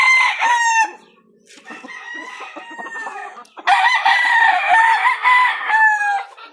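A seven-month-old straight Bruce Barnett Sweater gamefowl rooster crows loudly and close by in several long, harmonic calls with a brief pause between, heard alone with no talk.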